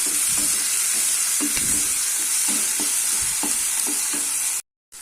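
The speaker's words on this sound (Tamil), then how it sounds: "இப்போ நான் ஒரே ஒரு தக்காளி கட் பண்ணி வச்சுருக்கேன் அதையும் போட்டு வதக்கலாம்" A single cut tomato sautéed in a pan for a Tamil wedding-style potato and peas paalkari, giving a steady close sizzle with repeated stirring scrapes and taps, no talking.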